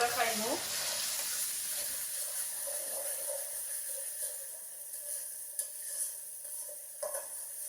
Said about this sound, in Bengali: একটা পেঁয়াজ দিলাম, এখন পেঁয়াজটা ভালো করে কষা নিয়োগ